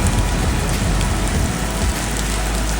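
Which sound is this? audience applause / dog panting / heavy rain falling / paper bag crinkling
heavy rain falling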